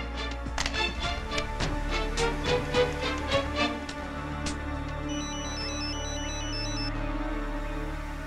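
A phone rings with a repeating electronic tone pattern, preceded by a few light taps and clicks, at moderate volume.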